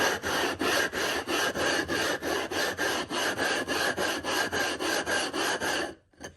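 Sharpening stone rubbed back and forth on an iron lapping plate, a close, rhythmic gritty scraping of about eighteen quick even strokes, stopping just before the end.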